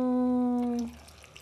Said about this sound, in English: Now we add in some filtered water. I pour it in